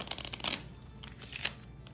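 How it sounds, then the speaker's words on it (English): A quick riffle shuffle of Maiden's Quest game cards, a fluttering burst of crisp snaps followed by a softer second riffle, close and quiet. "shuffle the cards in the same orientation."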